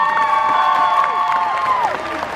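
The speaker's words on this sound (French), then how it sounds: "Je vous demande de l'applaudir bien fort." A festival crowd at an Asian culture convention claps and cheers loudly for a presenter, with whistles and high shouts rising over dense, sustained applause close by.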